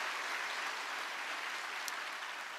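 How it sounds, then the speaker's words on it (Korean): Church congregation clapping together at an early-morning revival service, a steady, even wash of applause filling the room without a break and fading slightly toward the end. "우리 박수로 모든 영광 하나님께 올려드리겠습니다."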